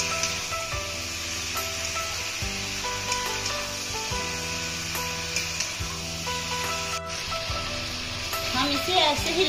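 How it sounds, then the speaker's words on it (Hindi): Chillies, onions, salt and turmeric fry in a pot for mutton curry, a steady close sizzle broken by repeated scraping strokes of a spoon stirring through the mixture. "थोड़ी देर हम मिर्च को प्याज के साथ भून लेंगे"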